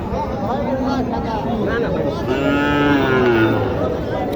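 A Jersey cow moos loudly and at length, close by at a cattle market, with faint voices murmuring in the background.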